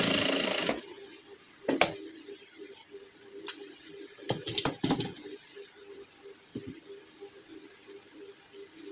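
A sewing machine stitches close along the buckram of a gents suit's chest cup, with a low steady motor hum broken by quiet clicks and short handling bursts.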